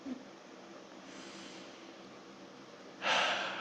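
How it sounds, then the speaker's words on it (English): Heavy breathing sounds close to the mic, a soft airy exhale that runs steadily and then ends in a louder, sharp breathy burst near the end, with no talking. "Heavy breathing."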